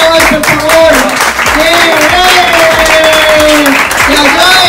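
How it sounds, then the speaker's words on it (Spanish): An audience at a pizza and pasta eating challenge breaks into loud, sustained applause close by, with a voice speaking over the clapping throughout. "Un aplauso para Raki que nos está visitando hoy, por favor."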